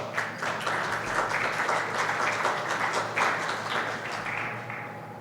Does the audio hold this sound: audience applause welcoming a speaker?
yes